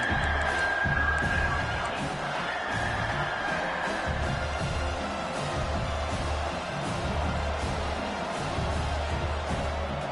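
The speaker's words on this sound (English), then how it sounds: "This crowd is trying to inspire this defense to make a big red zone stop." Steady roar of a college football stadium crowd at a UNC versus South Carolina game, building noise as the defense tries for a red zone stop; a dense, constant wash with no clear individual voices.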